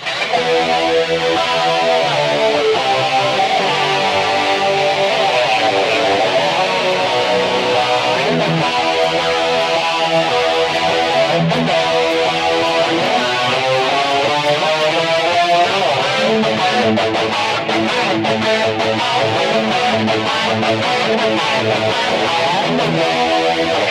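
Distorted electric guitar through a BOSS eBand JS-10 plays continuous gritty riffs in a 1980 style, loud and steady throughout, with no voices.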